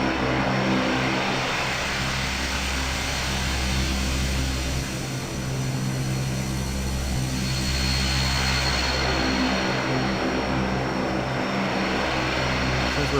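Dash 8-Q400 turboprop engines taxiing in a flight simulator (P3D/XP11), a loud, steady droning hum with a low propeller throb that holds unbroken throughout, with no talking.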